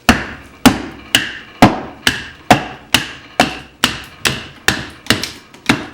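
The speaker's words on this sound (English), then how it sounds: "when you baton with a folding blade" A Benchmade Contego folding knife being batoned through seasoned hardwood, about a dozen sharp woody whacks at a steady rhythm roughly every half second, close and loud with no talking.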